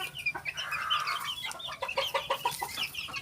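Kelso and Asil gamefowl cluck and call in a backyard coop, several birds close by with repeated short clucks and a drawn-out cackle, fairly loud with no talking.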